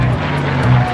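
Racing aircraft at the Reno air races circling an oval course over the desert, a steady loud propeller-engine drone with a shifting pitch, close and continuous for the whole second.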